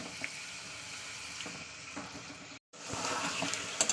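Chicken fries in hot oil over full gas, giving a steady close hiss and crackle that breaks off for a moment, then returns a little louder.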